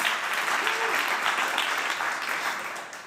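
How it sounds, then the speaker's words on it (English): An audience at a conference talk applauds in a dense wash of clapping that fades slightly toward the end, with a brief voice briefly sounding over it. "a big round of applause for our technical team"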